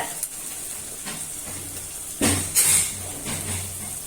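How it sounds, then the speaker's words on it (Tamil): Tomato goes into onions sautéing in a pan for mutton kuzhambu. A low background sizzle swells into a sharper burst of frying hiss and stirring about halfway through, then settles back. "வெங்காயம் நல்லா வதங்கிடுச்சு. தக்காளி சேர்த்துக்கங்க."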